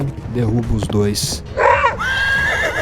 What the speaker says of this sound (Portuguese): O cavalo é morto por uma mordida feroz na jugular.